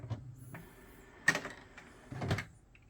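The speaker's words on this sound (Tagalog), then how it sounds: "we are now aligning the printer" Inkjet printer running its alignment routine after new ink cartridges go in: a few mechanical clunks and whirring carriage movements with brief gaps between, close and fairly quiet.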